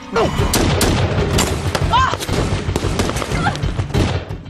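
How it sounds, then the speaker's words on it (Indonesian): Gunfire from a film firefight between a man and rebels, with loud repeated shots and bursts in a dense rapid sequence over a booming background, mixed with shouting voices. "mereka dibangunkan oleh suara tembakan dari gedung sebelah"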